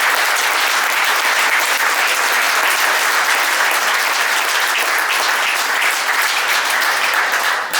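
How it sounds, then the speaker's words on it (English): Sustained, loud audience applause fills a Hall of Fame induction ceremony hall, honoring athletes and volunteers, steady and dense from start to finish with no talk over it. "How about one more big round of applause to all these athletes tonight, volunteers and athletes."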